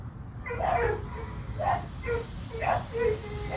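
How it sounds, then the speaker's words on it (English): Several dog barks in a loose rhythm, moderately distant, over a low background rumble at a racing event. "What are the dogs barking at?"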